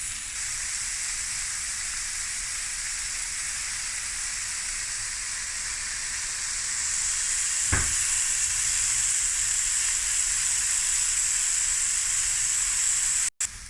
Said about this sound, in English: we're going to just let this mushrooms fry in that buttery olive oil goodness